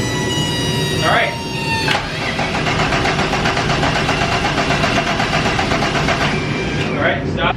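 A turbocharged VR6 engine swapped into a Mk3 Volkswagen is cranked on its first start attempt, loud and close, with a droning, rhythmic starter churn that runs steadily for several seconds and a couple of brief shifts in tone.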